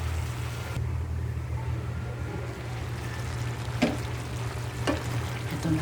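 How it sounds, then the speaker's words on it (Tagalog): Chicken kaldereta with potatoes and carrots stirred in a pot, a steady low simmering sizzle with two sharp utensil knocks against the side. "Ilagay na natin ang patatas at ang carrots. Haluin natin"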